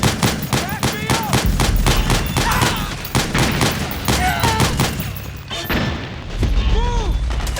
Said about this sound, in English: Suppressing fire! Suppressing fire! Back me up!